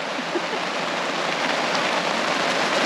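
Steady heavy rain hisses as a dense, even wash of noise at a remote campsite, with faint droplet patters close by on an awning and no voices.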